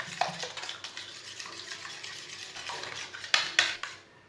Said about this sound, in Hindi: आधी चमची गरम मसाला। अच्छी तरह मिक्स कर लेंगे।